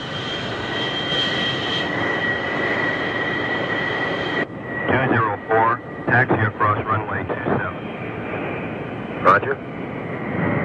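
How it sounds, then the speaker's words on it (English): F-14 Tomcat jet engines rumble and whine steadily on the runway before takeoff, a loud broadband roar under radio chatter between pilot and tower. "You're cleared for takeoff."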